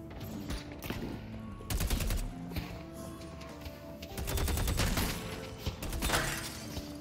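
Gunfire in Deadlock aimed at a bot, quick rapid bursts of shots over steady game noise, moderately loud and close, with no talk.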